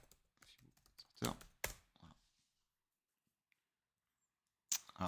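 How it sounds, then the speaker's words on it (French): Clicks and taps from a computer keyboard with a slightly faulty key, a few sharp keystrokes close up mixed with someone speaking, then a pause and another burst of taps. "ma touche de clavier bug toujours un peu."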